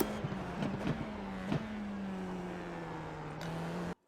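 A Formula IR-04 race car in iRacing brakes and downshifts into the Suzuka hairpin, a steady engine drone dropping in pitch with a few sharp blips from gear changes, then cutting off abruptly.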